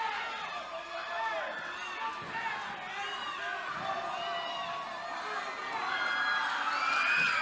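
Wrestling arena crowd at a 1982 Mid South tag-team match, a roaring mass of cheering, whoops and children shouting that swells louder toward the end, with voices calling out over it.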